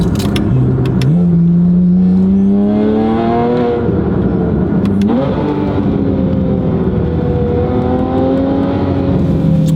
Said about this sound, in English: Now to be discreet, I'm turning the valves on so it's not as loud as we pull the Porsche.